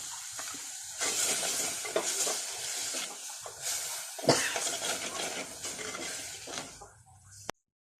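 Ground tomato paste hits chilli and coriander masala frying in a pan for a fish chilli curry, giving a steady, loud sizzle with stirring scrapes close up, cutting off abruptly at the end.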